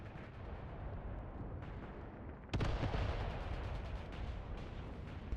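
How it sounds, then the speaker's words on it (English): Enemy artillery fire in the war game Mius Front: a continuous low rumble of distant shelling broken midway by one loud, close blast, followed by further rolling booms and crackle. "Enemy artillery fire here."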